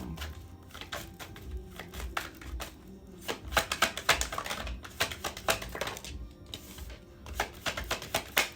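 Future higher self oracle card deck shuffled by hand, a steady run of soft, close papery riffles and taps that grows denser and livelier partway through, with no talking.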